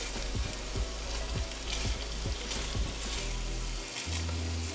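Meatballs fry and brown in a pan with a soft continuous sizzle and a regular series of low knocks from a utensil, ending in a steadier low hum.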